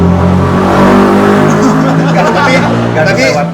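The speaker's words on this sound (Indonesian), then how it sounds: "Motor siapa sih itu?" A motor vehicle engine roars close by, revving loudly and then passing, its tone shifting as it goes by.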